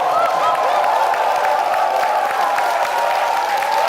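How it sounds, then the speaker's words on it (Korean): A studio audience at a Korean talk show claps and cheers continuously, a dense, lively wash of hand claps and shouts that holds steady throughout. "앞으로 이제 꼴통쇼에 오시면 이렇게 함성 지르고 박수 칠 일이 많으시니까"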